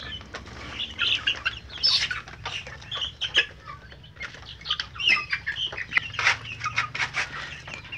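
Free-range village chickens cluck and squawk close by, with repeated bursts of flapping wings and scattered sharp calls over a low background hum.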